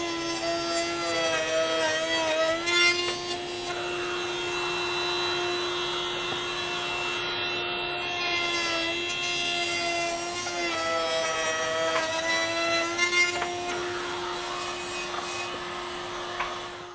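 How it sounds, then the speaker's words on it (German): Router table in a woodworking shop cutting grooves into two wooden boards for a magnetic knife block, a steady loud motor whine with constant high harmonics and rough cutting noise running throughout, with no talk. "jetzt kann man entsprechend hier Einsatzfräsen und die Nut hier in beide Bretter einfräsen"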